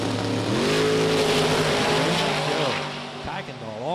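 NHRA drag racing cars, a Mopar and a Cavalier, roar loudly as they spool up and launch. The engine notes climb and shift without a break, and an announcer talks over them.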